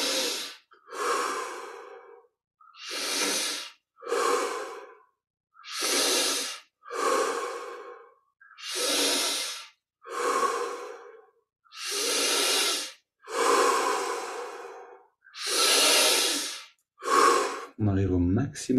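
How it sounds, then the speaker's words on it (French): Deep, slow breaths during a guided Kriya Yoga meditation, about a dozen long hissing inhales and exhales separated by short pauses, close and clear, with brief speech at the end. "Progressivement, on prend plus d'air"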